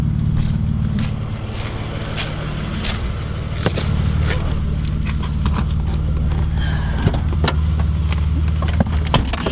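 A Volvo 760 V6 doing a burnout, its loud engine droning steadily up close while the wheels spin, with scattered sharp clatters and wind buffeting over the roar.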